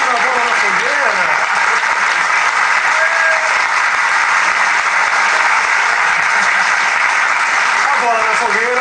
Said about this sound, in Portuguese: Uma salva de palmas para Roberto Justus.